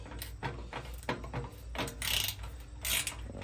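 A 7/16 wrench tightens a bolt on a lid latch of a Weber Smoky Mountain grill, giving a close series of quick ratcheting clicks and metallic scrapes in irregular bursts, with no talk.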